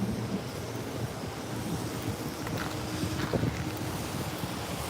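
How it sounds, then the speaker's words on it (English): Constant strong winter storm wind in Washington DC rushes and rumbles against the microphone, a dense unbroken roar with slight gusts and no talking. "And on top of it, it's very windy."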